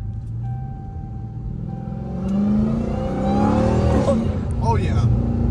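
A Dodge Hellcat Redeye with a new cold air intake accelerates hard nearby, its deep rumble rising into a louder revving roar with a whining edge, while excited voices talk over it.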